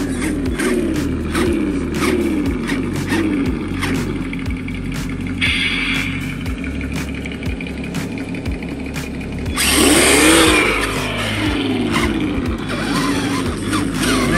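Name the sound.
Traxxas Undertaker RC mega truck driving and jumping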